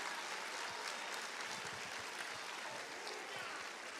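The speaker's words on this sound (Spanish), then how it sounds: "dale un aplauso fuerte al Señor." A church congregation applauds in a steady, even wash of clapping that sounds distant and faint and holds without pause from start to finish.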